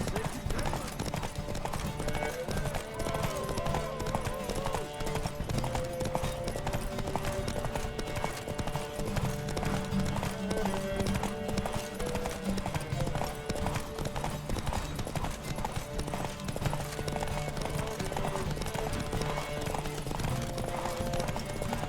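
Roach the horse gallops in a race in The Witcher 3, a fast, continuous clip-clop of hooves under a layer of game music and ambience, loud and close throughout.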